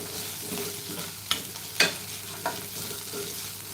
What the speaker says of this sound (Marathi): सुकट चांगली परतून घेऊया